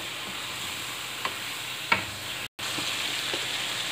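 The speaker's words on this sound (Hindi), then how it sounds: "अब इसको हम अच्छी तरह से इस ऑयल में फ्राई करेंगे।" Salted chicken pieces fry in oil for a restaurant-style chicken handi, giving a steady close sizzle with a few soft scrapes of stirring and a brief dropout, with no talk.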